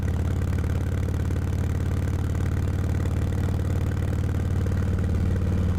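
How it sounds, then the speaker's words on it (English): A motorcycle engine drones on at constant pitch on Iron Mountain Road, South Dakota, a dense continuous rumble with a slightly hollow, reverberant quality echoing off trees, and no voices. "you can hear the echo of the engine bouncing off the trees"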